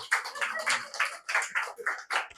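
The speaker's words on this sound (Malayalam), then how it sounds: "അപ്പൊ നല്ലൊരു കൈയടി." A small group gives a short burst of hand clapping at a mentalism show, about a dozen quick claps in an uneven rhythm, close and fairly loud, with no talking.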